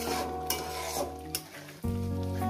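Poppy seed gravy with catla fish simmering in a pan, soft bubbling and light clinks of a spoon against the pan, with a steady tonal hum underneath.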